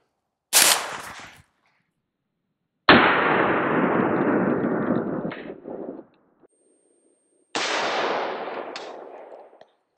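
Three sharp, loud rifle shots from a 16-inch Smith & Wesson barrel firing Remington .223 45-grain hollow points into a lightweight Level IV plate at about 10 feet, each a crack followed by a decaying rumble, spaced a few seconds apart.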